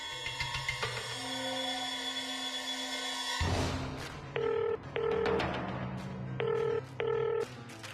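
A telephone ringtone sounds as a call is placed, with a sustained tone giving way to repeated short ringing bursts in rhythmic pairs, fairly clear against a faint background.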